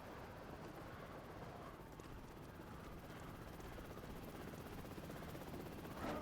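A helicopter in the Prototype video game, a low steady rotor rumble and drone running continuously at moderate distance, fairly quiet, with no talking.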